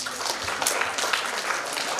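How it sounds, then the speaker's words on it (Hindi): An audience at a state school chess championship event applauds for Rajesh Sharma, with dense, sustained clapping heard close and loud throughout, without any talk. "और उनके लिए एक बार जोरदार तालियां"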